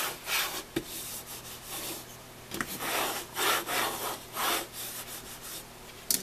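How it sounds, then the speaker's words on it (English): Paper edges rubbed down against an album cover with a burnishing tool, a steady series of soft, scratchy back-and-forth strokes, close and quiet with no voices. "Burnish these down good."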